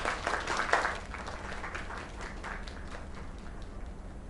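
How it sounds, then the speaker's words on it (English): A round of applause and clapping at a small gathering celebrating the naming of a new place, with a brief louder burst of clapping in the first second that then fades to scattered, softer claps. "Another round of applause."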